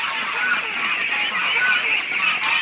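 A flock of ducks being herded along, honking and quacking continuously in a dense, loud chorus close by, with overlapping calls throughout.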